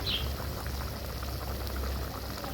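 Water poured into a simmering rohu fish curry with ridge gourd and potato, a steady soft hiss and bubble lasting a couple of seconds.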